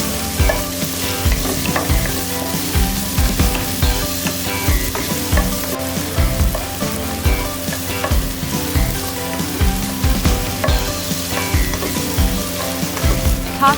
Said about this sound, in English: add 1 piece chopped medium tomato and sauté until becomes soft